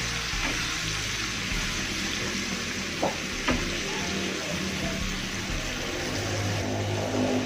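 Hand-ground sambal for ayam bakar sizzles loudly in a hot pan while it is stirred, giving a continuous crackling fry with a few soft scraping knocks of the utensil, and no talk.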